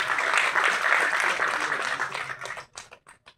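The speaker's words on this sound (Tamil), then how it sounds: "முதல் பாராட்டு இயக்குனர் பாரதி சிவலிங்கம் அவர்களுக்கு ஒரு பெரிய கைத்தட்டல் கொடுக்கணும்." A crowd at a film audio launch claps for director Bharathi Sivalingam, a dense burst of applause that thins into scattered individual claps and fades out.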